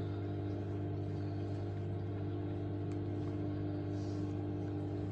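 An Asko washing machine on a 60° colour/white wash struggles to spin under suds lock, giving a steady low motor hum with a constant drone and faint whirring, with no speech.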